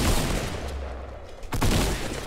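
Rapid gunfire in the Fortnite battle royale video game, dense loud bursts of shots filling the first second, a brief lull, then another heavy volley close up.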